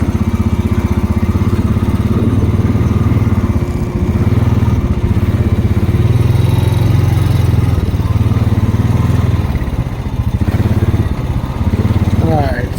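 A four-wheeler ATV engine runs loud and close on a hillside, holding a steady, rough mid-range drone with slight swells in throttle throughout.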